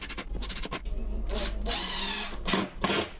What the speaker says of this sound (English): drilled some pilot holes, and added screws for extra strength.